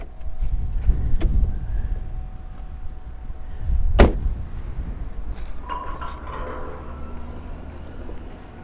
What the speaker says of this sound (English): It didn't sound like it was very happy starting up that time.